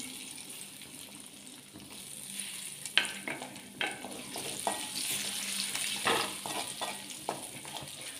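Chopped ginger frying in hot oil for a pickle, giving a soft close sizzle broken by scattered scrapes and taps of a spoon stirring the pan, fairly quiet with no voices.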